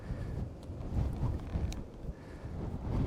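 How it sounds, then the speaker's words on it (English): Wind on Auckland's west coast, New Zealand, buffets the microphone in low, rumbling gusts that rise and fall steadily, with no voices present. "It's pretty windy, the weather's not the best."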